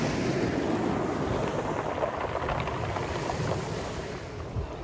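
Continuous roar of sea waves washing onto a beach in Adler, Sochi, broadband and steady with wind buffeting the microphone, close and moderately loud with no talk.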